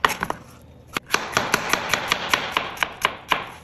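A knife slices through vegetable on a cutting board for a Thai beef salad in a quick, even series of about fifteen crisp chops, close and clear with no talk.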